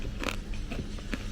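Crunchy bites into a crispy Burmese tea leaf salad sound close up, several quick crackling crunches in a row.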